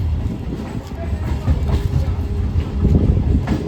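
A train rolls into Namkhana station at platform 1, a steady, fairly loud low rumble with rhythmic wheel clatter and rail noise throughout.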